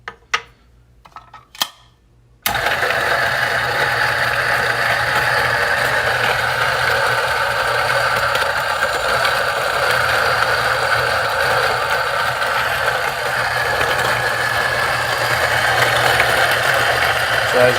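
An electric grinder whirs steadily and loudly, grinding 34.9 grams of coffee beans for AeroPress after a few quiet clicks at the start.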